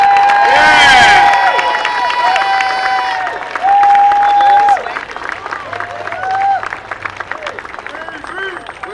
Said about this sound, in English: please give a homeboy round of applause for Dr. William Cosby.